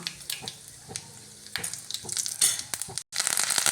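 Hissing, crackling sizzle of mustard seeds and urad dal hitting hot coconut oil, with small pops and a brief stir, close and fairly loud.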